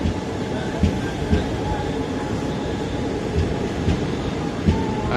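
A train pulls into a railway station in Malappuram, a heavy steady rumble of rolling wagons with faint rhythmic clickety-clack and a few louder knocks, close by and filling the platform.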